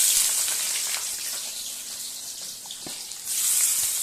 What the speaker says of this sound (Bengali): দিয়ে দিচ্ছি তেলে আগে পেঁয়াজ।